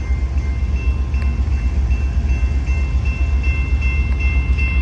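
A loud, continuous rumble of a train rolling past close by, with a steady low roar and faint metallic squeals.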